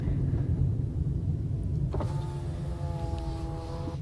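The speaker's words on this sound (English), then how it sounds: "I reach for the window control button and let the window roll open" A car's electric power window whirs open in a steady motor hum that starts about halfway through and runs to the end, over a low engine rumble inside the cabin.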